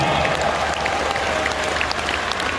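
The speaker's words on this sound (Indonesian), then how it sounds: "Tepuk tangan buat kita semua." Steady applause from a crowd, continuous clapping filling the room for a couple of seconds with no break.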